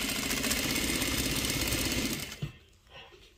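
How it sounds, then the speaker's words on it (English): A DDL-8700-H industrial sewing machine runs at its lowest speed, a steady close mechanical hum and chatter that cuts off abruptly with a small knock, leaving quiet room noise. "Let me show you how it's sewn"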